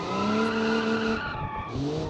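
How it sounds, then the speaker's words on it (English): Car tires skid and squeal under hard braking in BeamNG.drive, a modified London black cab sliding into a brief drift, a loud continuous screech lasting about two seconds with engine noise beneath and no talk. "Nice little miniature drift for me slamming on the brakes"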